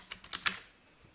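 Four quick keystrokes on a computer keyboard, fairly close and soft, typed in a short uneven burst and then fading into quiet room tone with no talking.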